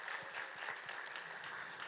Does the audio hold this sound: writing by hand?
no